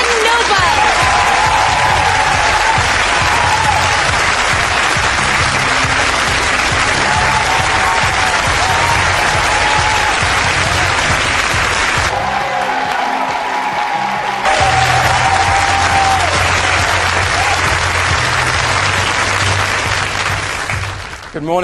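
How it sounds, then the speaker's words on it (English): Audience applause on a TV drama set, a loud, sustained round of clapping with some cheering that runs for about twenty seconds, briefly dipping near the middle before swelling again, with a low background hum beneath. "Please give a big round of applause for Mr. Julian Noble."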